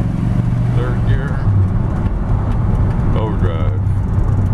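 A 1956 Chevrolet 3100 Big Window half-ton short-bed pickup engine drones steadily while accelerating through the gears outdoors near a lake, loud and close, with someone talking over the engine.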